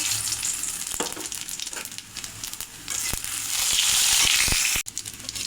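Cumin, radhuni, bay leaf and dried chilies sizzle and crackle in hot mustard oil in a pan, a loud close frying hiss broken by sharp pops and stirring scrapes.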